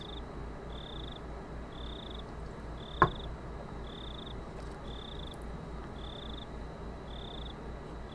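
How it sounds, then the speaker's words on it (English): Periodic electronic chirps from cicadas in a hot summer room in Higurashi When They Cry: Tatarigoroshi, repeating in an even pulse of about eight bursts over a faint hum, with a single sharp click midway. "The voices of the cicadas permeating my room were somehow grating to my head."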